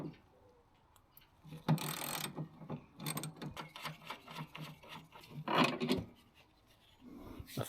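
Hand tools loosen bolts from a car's strut bar while it is being lowered: irregular ratcheting clicks, metallic scrapes and rubbing, close and moderately loud, with short pauses between bursts and no talking.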